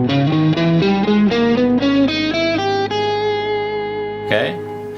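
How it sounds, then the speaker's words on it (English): Distorted electric guitar running an A harmonic minor scale, a quick ascending run of notes ending on a held sustained tone, loud and close. "Harmonic minor sounds like this if you play it in A."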